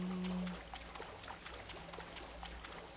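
A waterfall in the video game Black Myth: Wukong gives a steady rushing, splashing wash of water, moderately loud and continuous, with brief game tones at the start.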